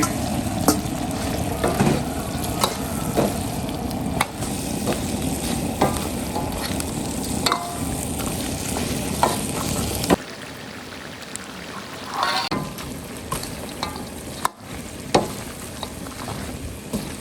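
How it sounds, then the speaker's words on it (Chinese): Ma duck meat stir-fried in a wok with Sichuan peppercorns, ginger, scallions and dried chilies: a steady close sizzle with scraping stir strokes, easing to a quieter sizzle partway through. "炒香之后，把鸭肉下锅"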